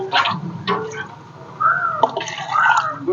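Buttermilk splashes and trickles as it is poured onto plates at a sadhu food-serving event in Thiruvannamalai, in short liquid bursts against a busy background with voices.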